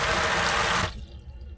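Water gushes loudly from a sink tap after frozen pipes under the sink have been thawed, a steady rushing stream that cuts off abruptly partway through, leaving faint room noise.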